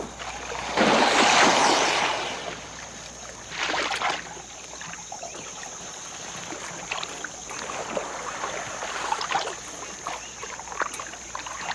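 Canoe paddling near water lilies in alligator country, with rhythmic splashes and swishes of paddle strokes through water, some strong and close, others softer, with light wind noise between strokes.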